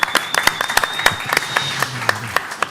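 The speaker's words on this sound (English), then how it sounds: "I would say 1 round of applause for DappNode." A conference audience gives a short round of applause, scattered sharp claps building into a brief ripple from a modest crowd indoors.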